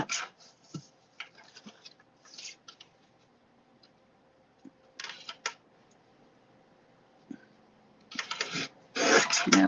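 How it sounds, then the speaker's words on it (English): Paper card is trimmed along its edge in short bursts of scratchy cutting and rubbing, separated by quiet pauses, close and fairly faint, growing louder and longer at the end. "Now I'm going to trim that down for my card."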